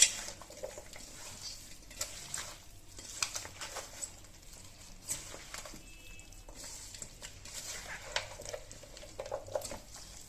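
Chicken curry ingredients being mixed in a pot, with irregular scraping and clattering of a spoon against the metal, quiet soft rustling between strokes and no talking.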